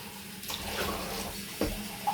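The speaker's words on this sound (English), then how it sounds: "listen to me wash my glasses here" Drinking glasses are washed under a running tap, with a steady rush of water and a couple of light clinks of glass, close and alone.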